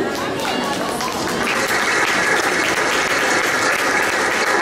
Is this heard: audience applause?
yes